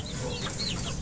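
Backyard chickens clucking, with short soft clucks and calls close by over steady outdoor noise for a brief second.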